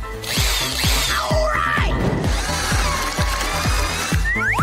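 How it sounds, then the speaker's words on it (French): A power drill grinds close up with a rapid, regular ratcheting clatter and whining pitch sweeps as it bites into material. "Maintenant, je vais découper le trou. Je vais le faire avec une perceuse."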